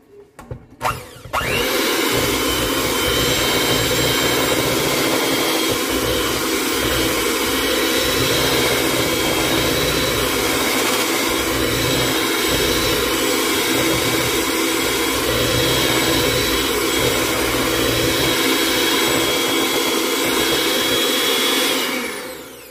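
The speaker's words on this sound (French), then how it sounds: "Je vais donner un autre petit coup de batteur." Electric hand mixer whirring continuously through brownie cream cheese batter, a loud, steady motor whine after a brief start, running alone and nearly unbroken for over twenty seconds before cutting off.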